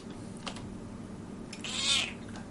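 A house cat lets out a drawn-out meow at close range, with light tapping from a computer keyboard scattered around it in a quiet room.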